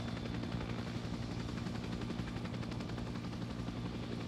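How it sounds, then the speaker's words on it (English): A video game helicopter drones steadily and loudly with a continuous rotor thrum for the whole stretch, with no voices over it. "Helicopter to the right, let's go."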